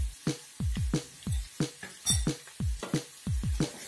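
Sliced onions sautéed with salt in a pan for a Varutharacha chicken roast, heard as a steady rhythm of spoon-on-pan clanks and scrapes, about three per second, close and moderately loud with no talking.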